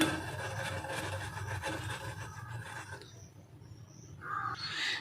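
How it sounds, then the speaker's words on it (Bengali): Peeled ripe mango rubbed and grated to pull out the pulp gives a close, steady rasping scrape that stops after about three seconds. Faint bird calls follow in a quieter background. "এবার আমি এটাকে এরকম ঘষে ঘষে আমের পালটা বের করে নেব।"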